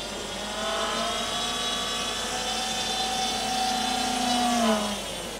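An RC hydrofoil boat's motor, on a build styled after a Tesla Cybertruck, whines steadily at close range, then climbs in pitch as the throttle is pushed up before easing off at the end.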